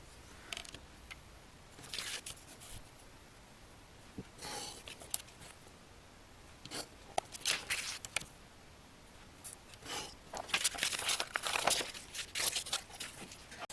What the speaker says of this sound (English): I'm going to use a straight edge and a craft knife